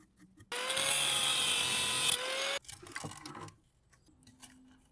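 A power tool cuts the heads off rusty screws on a generator being scrapped, a loud, steady high-pitched whine running about two seconds before stopping, followed by quieter clinks and handling sounds.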